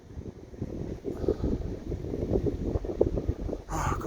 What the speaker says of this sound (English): Oh God, you can hear that engine?